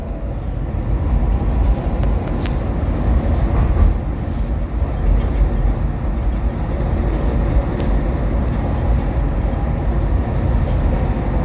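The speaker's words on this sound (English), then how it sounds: "69th Street train making all stops" A subway or rail train sits or moves at Church Station on a 69th Street line making all stops, giving a steady, loud, close rumble with a constant low drone throughout and no voices.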